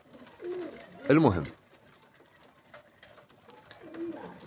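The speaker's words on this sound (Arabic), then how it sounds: "وصلني الحمام" Pigeons coo in a short, clear burst of calls, with quieter cooing returning near the end, while someone speaks briefly over the birds.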